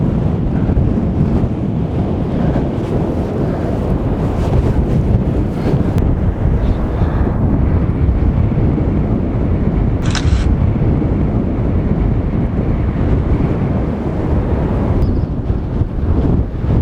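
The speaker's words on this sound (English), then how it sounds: "My one concern is the wind buffeting of the camera." Strong wind buffets a camera on the coast at Lulworth Cove, a loud, continuous low rumble that roars and surges without a break across the whole stretch.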